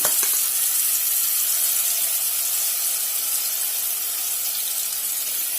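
Marinated chicken pieces drop into hot oil and melted ghee, setting off a loud, continuous sizzle and hiss that fades slightly over several seconds, with no talking.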